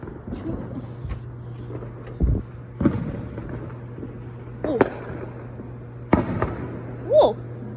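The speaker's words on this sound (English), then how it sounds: "Big fireworks scare me." Fireworks bursting at a distance, a handful of sharp cracks and booms spaced irregularly over a low steady hum, with faint voices nearby.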